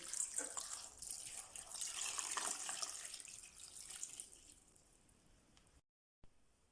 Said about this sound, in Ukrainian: та заливаємо одною літрою простої води